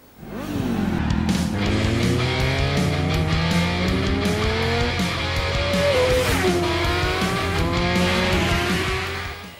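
Racing motorcycles scream through the gears in the TT Isle of Man video game on PlayStation 4, loud rising engine whines with repeated shifts and tyre noise, continuous throughout and free of talk.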